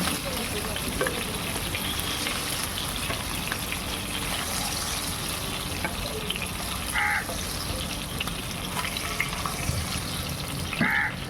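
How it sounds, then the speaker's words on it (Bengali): Katla fish frying in hot oil in a home kitchen gives a steady, close sizzle that crackles without pause for the whole stretch, with a few sharper spatters near the end. "মাছটা একটু ভালো করে ভেজে নেব"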